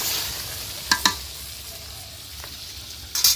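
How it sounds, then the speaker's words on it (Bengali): Water poured into browned chicken curry sizzling in oil on an outdoor clay stove, with hissy bursts of steam at the start and end and a couple of sharp clatters between. "এখন আমি ঝোলের জন্য জলটা দিয়ে দিব।"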